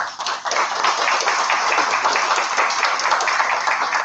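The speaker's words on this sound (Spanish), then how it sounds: "Para ellos quiero pedir un fuerte voto de aplauso." An audience applauds steadily, dense clapping that stays loud and even from start to finish.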